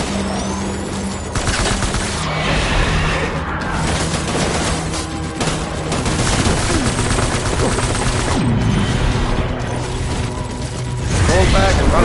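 Rapid gunfire from a battle in the video game Death Stranding, dense and sustained bursts mixed with mechanical clatter and booms that continue loudly through the whole stretch.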